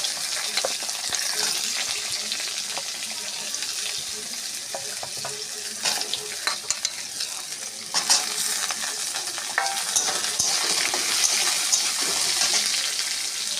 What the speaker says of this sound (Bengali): পেঁয়াজটা হালকা ভাজা হয়ে গেছে কুমড়ো আর কাঁচা লঙ্কাটা দিয়ে দেবো একসঙ্গে